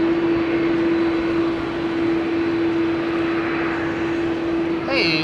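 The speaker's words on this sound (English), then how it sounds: "It's these engines that you are constantly hearing." Airliner jet engines at a rainy Amsterdam Schiphol Airport give a steady, loud, continuous roar with a sustained drone tone, unbroken for the whole stretch.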